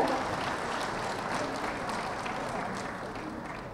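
Large audience of business delegates applauding in a hall at the opening of an Indonesian national chamber of commerce meeting, a soft, even, distant wash of clapping throughout.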